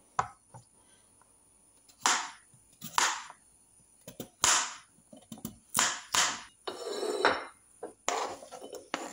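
A knife chops potatoes and carrots on a cutting board in irregular bursts, sharp close knocks with short pauses between, and a brief scraping sweep near the end.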